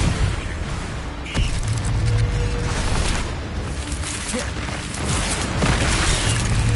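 A Confringo fire spell explosion in the video game Hogwarts Legacy: a dense, loud roar of blasts and rumbling bursts fills the whole stretch, with a sharp boom near the start and no speech.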